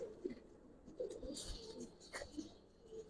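Soft, low cooing from a pigeon of an old giribaz breed, a few murmuring coos spaced across the moment, faint and close with light background rustle and no talk.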